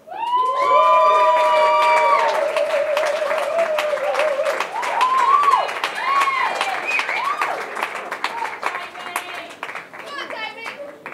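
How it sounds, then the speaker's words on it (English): Wedding guests give a loud round of applause with whoops and cheers, children's voices mixed in, the clapping fading gradually toward the end. "So everyone could please give a round of applause and welcome to the front"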